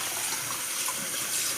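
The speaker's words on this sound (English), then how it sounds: "run water over your potatoes like this into" Tap water runs steadily over potatoes into a bowl, a continuous close splashing rush that fills the whole moment with no voices.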